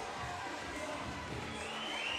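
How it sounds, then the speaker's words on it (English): Boxing crowd on its feet at a Contenders fight night, a faint, steady wash of cheering and murmur heard from a distance under the arena ambience. "The crowd's on their feet here."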